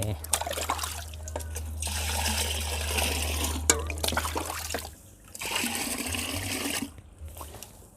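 Hose water pours into a soil mix being prepared for vegetable growing, gushing and splashing in steady stretches that break off briefly and resume, close by, while a low hum runs underneath.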